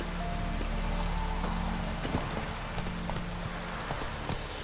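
Roach, a horse in The Witcher 3, trots through rain, its steady clip-clop of hooves sounding fairly close over a constant patter of raindrops, with no talking.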